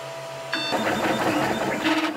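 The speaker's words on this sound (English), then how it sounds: "Flashforge Dreamer printing out a benchy test piece in polycarbonate" Flashforge Dreamer 3D printer fitted with an all-metal hotend, printing a polycarbonate benchy test piece at 260 °C: steady whine with a constant high tone, its stepper-motor buzz rising and shifting in rhythmic bursts, close and alone.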